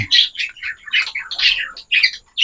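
A pair of parakeets with their chicks give a rapid series of shrill squawks and chirps. The calls come in close, bursty runs with short gaps between them, and no one speaks.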